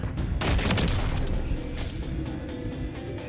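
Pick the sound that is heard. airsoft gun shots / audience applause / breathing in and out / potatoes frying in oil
airsoft gun shots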